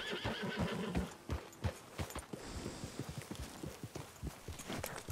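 A horse whinnies while hooves clop steadily and rhythmically in Red Dead Redemption 2, with bursts of game sound effects layered over the hoofbeats.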